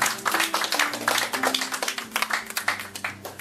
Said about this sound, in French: Okay, on l'applaudit encore, mesdames et messieurs